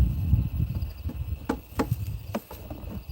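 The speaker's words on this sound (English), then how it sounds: "I see some bees around my head." Honeybees buzzing around beehive frames being handled while a farm colony is readied for moving, a faint insect hum under low rumbling and a few sharp knocks of frames and boxes.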